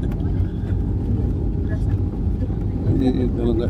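A jet airliner braking on the runway after landing at Soekarno-Hatta Airport with its spoilers raised: a steady, loud, low roar heard from inside the cabin, with a person speaking over it.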